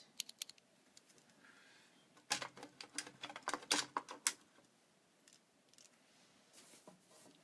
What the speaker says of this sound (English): Sorry if I'm taking too long to refill my pencil.